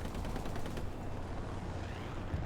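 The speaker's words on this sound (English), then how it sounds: "And there's another satchel explosion." Satchel charge explosions and surrounding battle noise on Omaha Beach in the World War II game Hell Let Loose, a dense continuous roar of blasts and gunfire with no clear pauses.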